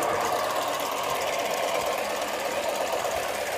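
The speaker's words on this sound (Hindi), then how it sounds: "यहाँ पर ही हमारा इंजन चालू हो गया" A homemade steam engine runs steadily, making a continuous close mechanical buzz with rapid, even knocking and no pauses. No one speaks.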